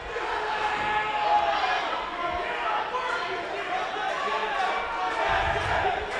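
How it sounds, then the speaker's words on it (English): A crowd at a wrestling match between Greg Vendetti and Derek Silveira, chanting and roaring as a steady, dense wash of voices throughout, with no clear single speaker on top. "we have chants of Derek coming from the crowd"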